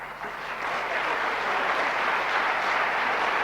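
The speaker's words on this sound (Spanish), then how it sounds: "José Antonio Quiroga, para quien pido un fuerte aplauso." Steady, dense audience applause at a book presentation in Bolivia, rising quickly and holding evenly throughout, with no voices over it.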